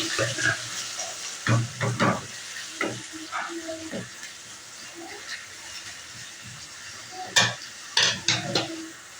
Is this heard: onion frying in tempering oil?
yes